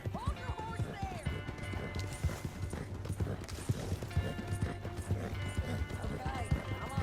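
Horse hooves clip-clop at a steady walking pace in the Red Dead Redemption 2 video game, set against low background ambience, with a voice talking over the hoofbeats throughout.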